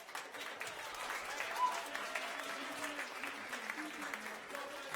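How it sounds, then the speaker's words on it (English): Studio audience applause on a late-night show, a dense wash of clapping that carries on steadily under faint background voices. "Go ahead and give it a round of applause"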